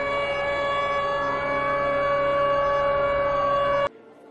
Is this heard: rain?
no